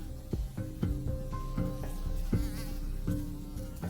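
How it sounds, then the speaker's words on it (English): Mosquitoes buzzing in an animated story scene, a steady thin whine layered over rhythmic knocks and tonal hits, moderately loud with no speech. "there are mosquitoes biting me."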